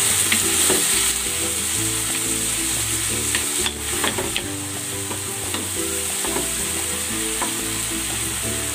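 Onion and tomato sautéing in a pan, a continuous close sizzle broken by repeated scraping stirs of a utensil against the pan, steady and loud with no voices.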